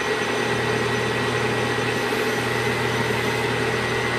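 A metal lathe with a carbide insert runs at 755 RPM, giving a steady, even mechanical hum with a constant tone and no change in pitch or level.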